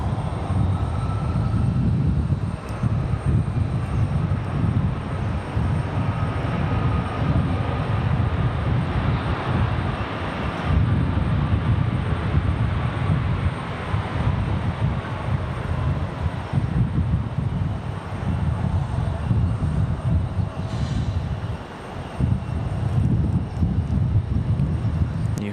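A Boeing 737 Max 8 lands on runway 23 right at Raleigh-Durham International, its engines giving a sustained low roar with a faint whine above, steady and fairly distant, fading slightly near the end.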